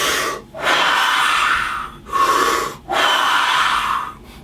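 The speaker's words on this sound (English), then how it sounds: "Take a deep breath." Slow, deep breaths taken close to the mic: long airy inhales and exhales in a steady rhythm, with brief pauses between each breath and no speech.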